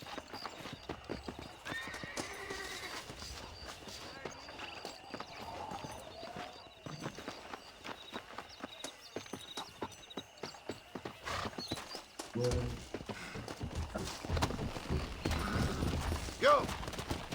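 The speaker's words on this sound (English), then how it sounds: "Vou ter que arrumar um cavalo." Horse hooves clip-clop steadily in the western video game Red Dead Redemption, with whinnies and neighs breaking through, some creaky tack noise, and a bed of game ambience that swells louder toward the end.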